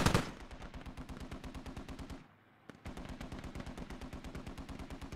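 Rapid machine-gun fire from a strafing run on a Humvee in the video game Squad rattles in a long fast burst, pauses briefly, then resumes at the same steady rate, with no voices.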